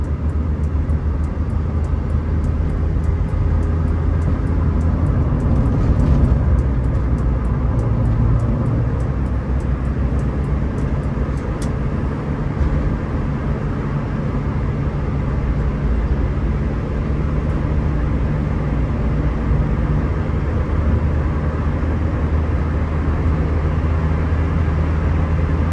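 A modified 2000 Honda Civic EK with a D17A engine swap drones steadily at speed on the Islamabad expressway, a constant loud engine and road roar heard from inside the car with no clear rise or break.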